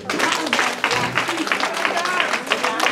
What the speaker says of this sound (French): On l'acclame, s'il vous plaît.